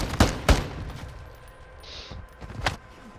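Video game gunfire during a gunfight on a map called Blacksite, with a few sharp loud shots close together near the start and another one later.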